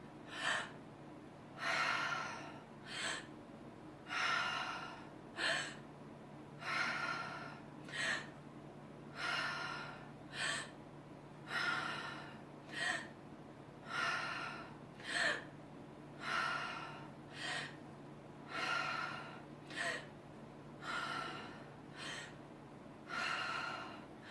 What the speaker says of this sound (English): So again, breathing more deeply and widely.